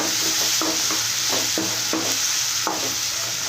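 Oil sizzles steadily in a pan as tomatoes and onions cook down soft, while a spoon stirs through them, scraping in repeated strokes about every half second.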